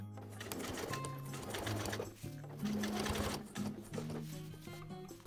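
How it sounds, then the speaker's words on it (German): Sewing machine topstitching the fly placket of jeans, running in a steady fast mechanical whir with brief pauses and speed changes, close and fairly quiet, with no talking. "Nun kann der Schlitz von der Außenseite durch und durch gesteppt werden."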